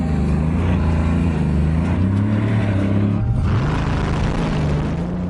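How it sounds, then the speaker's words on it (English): A Bugatti Veyron with its dual-clutch transmission accelerating hard, a deep, loud engine roar whose pitch climbs steadily, drops briefly at a gear change around the middle, then rises again. "Even the Bugatti engineers are surprised by just how fast the Veyron accelerates."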